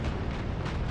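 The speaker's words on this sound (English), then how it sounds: "Let's get visual on that tower detonation." A deep, rumbling tower detonation in the video game Call of Duty: Infinite Warfare fills the whole moment, a dense roaring blast with no distinct start or end, heavy in the low end.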